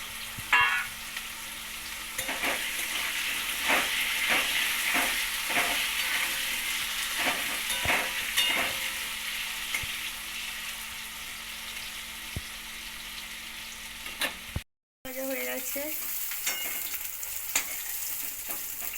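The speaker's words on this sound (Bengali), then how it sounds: "লাউ ভাজবে লাউ ভাজছে" Bottle gourd frying in a pan, part of a vegetarian dish with coconut, gives a steady, close hiss and sizzle. Repeated scraping stir strokes run through it, a brief gap breaks the sound near the end, and the frying then picks back up.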